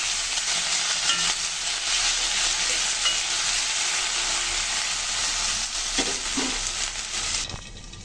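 Potatoes with a pinch of salt frying in a pan, a steady dense sizzle that runs almost the whole time, with a couple of faint scrapes near the end before it drops away.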